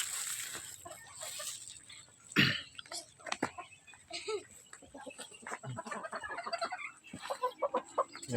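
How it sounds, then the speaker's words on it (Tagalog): Chickens cluck and mutter nearby in short irregular bursts, with a sharp cough-like squawk partway through. "Yan ang mga manok natin mga boss."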